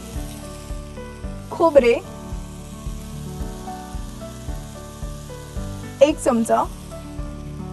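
Vegetables cooking with grated coconut and red chillies in a pan give a steady sizzle under a voice, which speaks in two short bursts.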